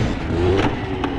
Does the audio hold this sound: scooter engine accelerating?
yes